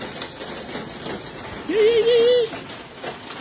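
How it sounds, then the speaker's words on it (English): Hail pelts a house roof during a monster storm battering the Carolinas, a steady rain-like patter with a brief louder rush midway, heard up close outdoors. "Hailing."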